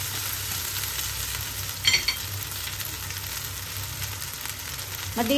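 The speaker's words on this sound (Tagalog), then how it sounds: "Namix na natin mabuti yung ating pansit." Yakisoba noodles being stir-fried and tossed in a hot pan, a steady broad sizzle with scraping and stirring throughout and a couple of brief louder clatters.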